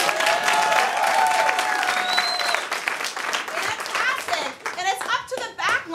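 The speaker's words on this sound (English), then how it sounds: "let's have a round of applause." Audience applause at an improv class show, a dense burst of clapping that thins toward the end as excited children's voices and squeals rise over it.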